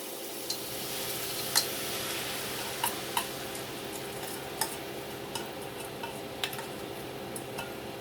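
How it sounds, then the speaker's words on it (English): Rice frying with beans in a pot, a faint steady sizzle under scattered sharp ticks and scrapes from a utensil stirring, quiet and close. "we are going to give this a good stir and let it cook with the beans and fry for a bit"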